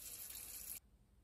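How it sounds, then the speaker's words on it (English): Water runs steadily from an RV faucet being purged of trapped air after a water heater relief valve repair, a broad hiss that cuts off abruptly partway through, leaving quiet. "Let the faucet run to purge any air that may have built up or gotten trapped in the system."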